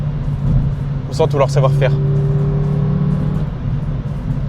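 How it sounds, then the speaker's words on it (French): A Renault Twingo RS with a naturally aspirated engine revs hard in the rev range, a steady loud engine drone with a brief rising note, under continuous in-car talk. "Là, on sent le Renault moteur atmosphérique."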